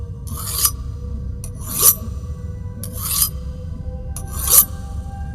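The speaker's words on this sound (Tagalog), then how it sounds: "nakarinig siya na tila ba kinikiskis na metal, na para bang naghahasa ng talim" Harsh metal-on-metal rasping like a blade being sharpened, four long strokes repeated at a steady pace, loud and close over a low background hum.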